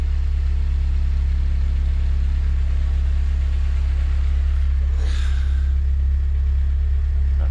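A K-swapped Honda Civic EP21 with its idle air control valve deleted idles while warming up, a loud, steady, deep engine drone recorded up close, with a brief higher whoosh passing over it midway.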